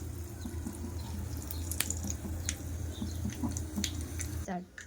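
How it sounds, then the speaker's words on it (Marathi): Water trickles and drips into a pot of sambar with small splashy ticks, close and fairly steady, then cuts off near the end. "आता थोडंसं मी याला अजून पाणी घालत आहे"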